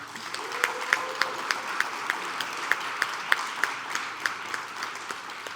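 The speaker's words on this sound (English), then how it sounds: "Let's give them a big round of applause." Audience applause at the final round of a university venture competition, with distinct sharp claps standing out in a steady rhythm over a moderate, even wash of clapping from a smallish crowd.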